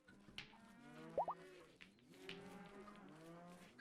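Cattle lowing in the Rimworld colony sim, a few drawn-out moos rising and falling over a low murmur of game ambience, one brief sharper call near the middle, no talking.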